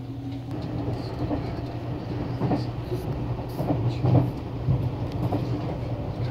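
A Nankai Rapi:t airport express train runs between Kansai Airport and Namba, Osaka, heard from inside as a steady low rumble with faint rhythmic clicks and thumps throughout.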